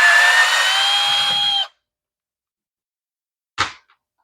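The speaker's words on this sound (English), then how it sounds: "if you don't have a screw gun, you'll want one when you're doing this" Cordless screw gun backing screws out of a Husqvarna leaf blower housing: a steady high whine runs for about a second and a half, then silence, then one short burst near the end.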